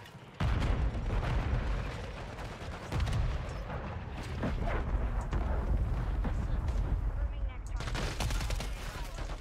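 Grenade blast in Call of Duty: Modern Warfare 3 multiplayer, a loud boom amid constant gunfire and battle noise, with a player talking over the chaotic mix.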